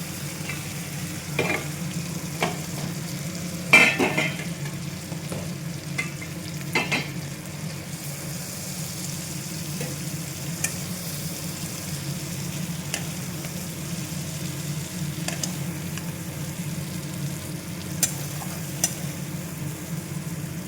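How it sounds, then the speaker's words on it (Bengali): Ingredients for chicken curry fry in a pan with a constant close sizzle, punctuated by occasional clinks and scrapes of a spoon stirring, and no talking. "ভাজা ভাজা করে নেব। এ দেখো, ভাজা ভাজা হয়ে গেছে।"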